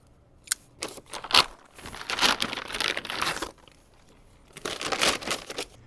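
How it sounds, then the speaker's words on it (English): A plastic bag of firewood from Cabela's is cut open up close, with sharp bursts of crinkling and tearing plastic separated by brief pauses. "I have a bag of wood I got at Cabela's, and I'm gonna cut that open and see what we're working with."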